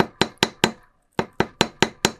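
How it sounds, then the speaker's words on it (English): A small metal hammer strikes paper clips flat on a little anvil in a quick run of sharp, ringing metallic taps. Three blows, a brief pause, then five more at an even pace, close and clear. "then I just roll them round and hammer them flat on this little anvil"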